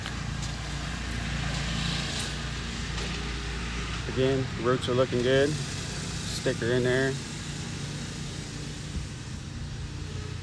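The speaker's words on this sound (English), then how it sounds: "Sorry about the mower in the background" A low, steady engine drone hums in the background throughout while a person speaks briefly up close.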